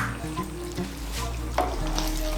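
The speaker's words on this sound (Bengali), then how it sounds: "ফ্রেশ ক্রিমটাকে মিশিয়ে নেব।" Fresh cream being stirred into butter chicken masala in a pan, a continuous close sizzle with soft wet stirring scrapes throughout, steady and moderately loud.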